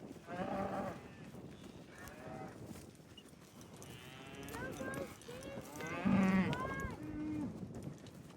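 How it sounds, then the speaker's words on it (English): Several cows moo, some overlapping and some in sequence, during a cattle gather on a family ranch in Colorado before a big pasture move. The lowing is moderately distant, with faint outdoor background. "We're gonna gather all these cows"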